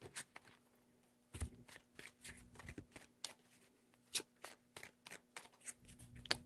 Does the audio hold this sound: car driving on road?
no